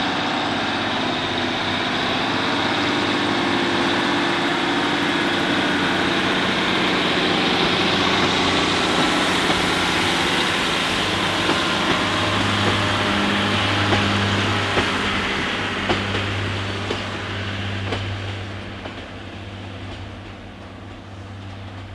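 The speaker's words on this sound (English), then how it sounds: "there's going to be an HST through here about 9 o'clock this evening" HST diesel train on the Dawlish seawall, a loud sustained engine drone and rolling rail rumble that swells as it passes nearby, then gradually fades.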